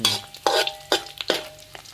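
Pork and pork kidney stir-fried in a little oil in a pan for a spicy holy basil dish: a steady sizzle punctuated by rhythmic, close spatula scrapes and tosses, with no talk.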